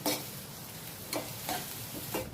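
Ginger garlic paste fries in a pan with a soft, continuous sizzle, punctuated by a few light spoon scrapes and taps as it is stirred, close and alone.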